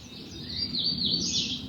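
Birdsong drifts in steadily during a calm spring yoga breathing session, a continuous high warbling chirp running over a soft low ambient hum, moderately loud with no talking.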